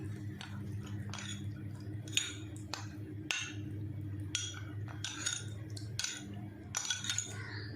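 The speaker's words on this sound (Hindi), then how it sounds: "इसको अच्छे से हमने मिक्स कर लेना है।" A spoon stirs custard mixture in a bowl, giving faint repeated clinks and scrapes at an uneven rhythm over a low steady hum.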